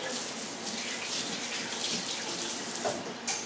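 A kitchen faucet runs steadily while a whisk is rinsed under it, a continuous close hiss of splashing water with slight changes as the whisk moves through the stream.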